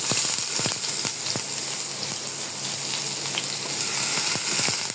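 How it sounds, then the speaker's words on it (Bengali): Onions frying in soybean oil in a pan, a steady close sizzle with crackling pops and occasional sharper spits throughout, no voices. "পেঁয়াজগুলোকে হালকা ভাজা দেব।"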